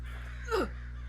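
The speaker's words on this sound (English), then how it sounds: "Bird?" A single crow caw rings out in a horror video game, one short harsh call over a steady low ambient hum.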